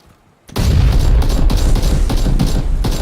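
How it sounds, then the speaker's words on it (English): Gunfire and grenade blasts in a PUBG match, bursting in loudly after a quiet half second and continuing as dense, overlapping booms and rapid shots. "Grenade in!"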